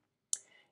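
A single sharp computer mouse click, crisp and close, with a short fading tail after it in an otherwise quiet room.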